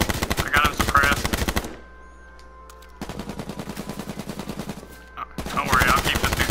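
Rapid automatic gunfire from the battle royale game H1Z1 fires in dense, rhythmic bursts, loud and close, with brief lulls between long strings of shots.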